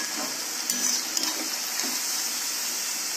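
Ripe mango snack frying in oil in a pan, a steady high sizzle running throughout with a few soft clinks and stirring touches, close and alone without talk.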